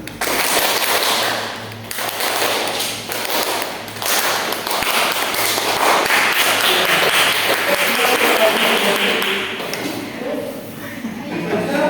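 A class of pupils clapping in unison, swelling louder and easing softer in waves as directed, dense rapid hand claps with a few voices in the room.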